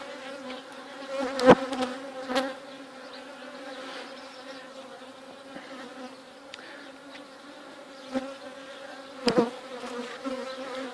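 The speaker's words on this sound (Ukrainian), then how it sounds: "А так бджілки повиходили на прилітну доску." Honey bees at an apiary hive on a warm June day produce a steady, close, droning hum with a few louder buzzes as individual bees fly past near the landing board.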